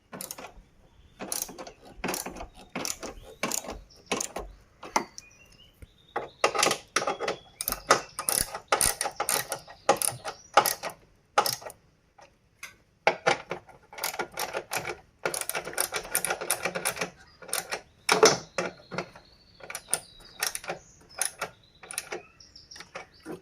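A hand ratchet tightens bolts on the wiper fluid tank of a Suzuki Splash, with rapid close clicking in repeated bursts separated by brief pauses.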